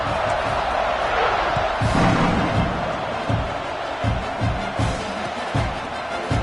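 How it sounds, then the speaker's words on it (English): Stadium crowd noise in the NCAA 26 football video game, a steady loud roar and buzz of a large crowd after a score, with sharp thumps and bursts of cheering rising through it. "this crowd is buzzing after that last score"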